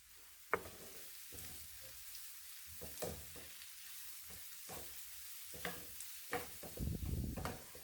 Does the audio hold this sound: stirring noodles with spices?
yes